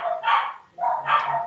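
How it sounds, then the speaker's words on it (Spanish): A small neighbourhood dog barks twice in sharp yappy bursts, close and fairly loud, with a short pause between the barks. "escuché uno ladrando que como ladra chiquitico"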